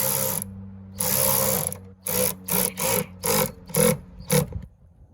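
Ratchet bolting down an off-road pod light bracket on a vehicle body panel: one long crank, a second long pull, then a quick run of six or seven short clicking strokes, close and fairly loud.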